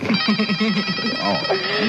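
A telephone rings in a movie scene, with steady electronic ringing tones running under a voice talking over it throughout.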